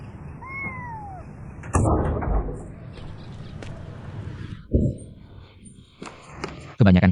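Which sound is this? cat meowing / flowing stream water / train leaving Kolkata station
cat meowing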